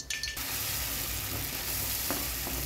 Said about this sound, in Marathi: जे छोटंसं वाटण केलेलं आहे ते तेलात चांगलं परतून घ्यायचं आहे